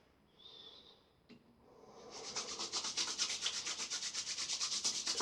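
Aftershave balm is rubbed into a freshly shaved face, giving close, soft, rhythmic rubbing strokes that start quietly and then grow into a steady brisk swishing.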